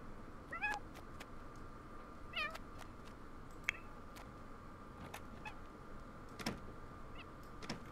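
Several short game-cat meows from The Sims 4 rise over a low hum, scattered across a few seconds with quiet gaps between, fairly faint and with no talking.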